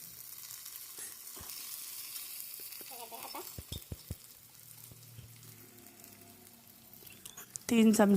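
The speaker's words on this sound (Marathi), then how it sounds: "आणि आता हे सगळं चांगलं मिक्स करून घ्यायचं थोडा वेळ." Chili oil being stirred into Maggi noodles cooking in a pan, with a steady sizzle and several sharp scraping knocks of the spoon, and a person talking over the cooking near the end.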